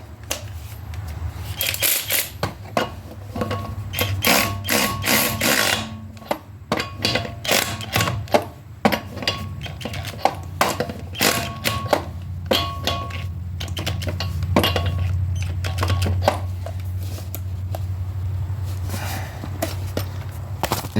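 A ratchet wrench works on the bolts of a bolt-on wheel hub assembly during a car repair, giving bursts of rapid clicking and metallic clatter over a low steady hum for about twenty seconds.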